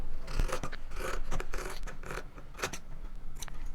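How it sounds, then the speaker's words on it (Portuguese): Scissors trimming fabric pieces for a quilt block, a close series of quick snips and rustling cuts with no talk. "agora eu recorto"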